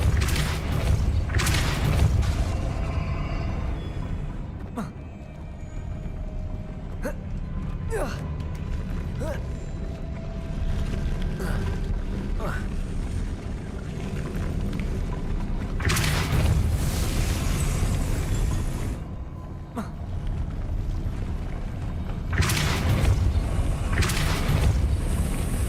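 Heavy force-spell impacts from Hogwarts Legacy land as booming bursts over a dense game soundscape, with several loud broadband hits standing out near the start and later on, under a voice talking.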